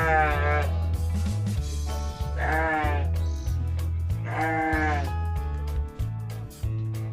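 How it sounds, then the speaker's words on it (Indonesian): Sheep in a goat and sheep pen on a farm in Kampung Pari bleat loudly and close by, three long wavering calls spaced a couple of seconds apart over a steady low hum. "inilah dombanya ya"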